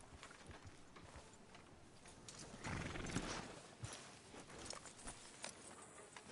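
Horse hooves clip-clop steadily with a whinny partway through in Red Dead Redemption 2, set against quiet game ambience, with a louder burst around the middle.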